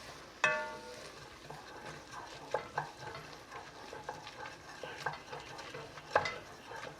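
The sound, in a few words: onions cooking in a pot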